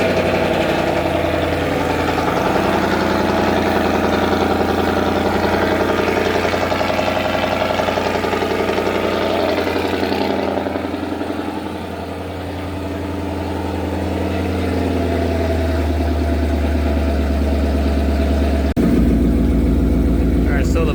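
A Datsun 240Z with a swapped Coyote V8 idles with a steady low rumble and a brief dip in revs partway through, with people talking over it.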